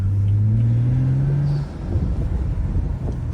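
A BMW N55 car engine droning with a rising intake whine as it accelerates, then easing off into a rough, burbling rumble with faint exhaust crackles and pops.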